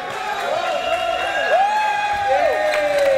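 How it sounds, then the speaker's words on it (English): Crowd at a CNL league game cheers and whoops steadily while a player named Nick comes out to mop the court, a broad wash of voices holding at even loudness with a bright whistle-like tone gliding through it. "They are cheering on Nick coming out to mop up the court here."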